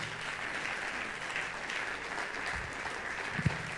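Church congregation applauding during a Sunday worship service, a steady wash of clapping spread through the room at moderate level, with a few sharper claps near the end.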